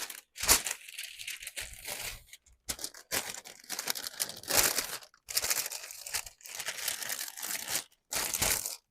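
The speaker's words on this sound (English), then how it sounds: "I'm going to just put some wax paper, that's probably too much, on here to close it" Wax paper crinkled and crushed by hand while covering a jar for an alcohol ink vase project, close and loud, in repeated bursts of crackling separated by short pauses.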